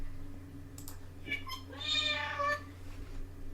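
Several cats meow in quick succession, a run of short rising calls near the middle, moderately loud over a low steady hum and faint room noise.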